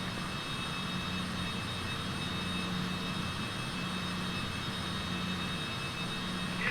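A Cessna Citation CJ4 business jet takes off in Flight Simulator 2020: a steady, continuous engine roar with broadband hiss holds at an even level throughout, with no voices.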